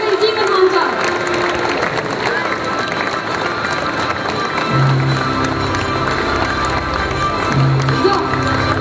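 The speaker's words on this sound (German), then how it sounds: "Einen riesen Applaus bitte für den Demon Hunter." A convention crowd at a cosplay contest award ceremony applauds and cheers the Demon Hunter cosplay winner, loud dense clapping and shouts with music playing underneath.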